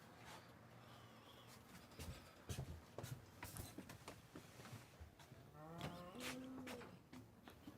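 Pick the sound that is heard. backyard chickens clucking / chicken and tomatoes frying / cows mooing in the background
cows mooing in the background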